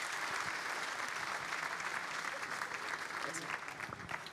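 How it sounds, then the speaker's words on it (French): Applause from an audience at a town's New Year greetings ceremony, steady dense clapping in a hall, held evenly and tapering slightly at the end. "vous pouvez l'applaudir"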